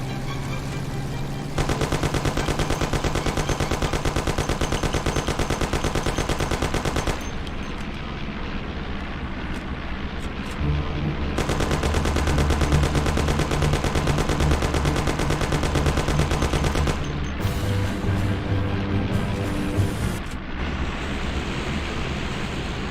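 Sustained automatic gunfire from a shootout in the Mafia: The City of Lost Heaven video game, loud dense bursts running for several seconds, pausing briefly, then resuming in long continuous volleys.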